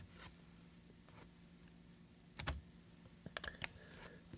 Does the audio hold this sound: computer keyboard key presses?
yes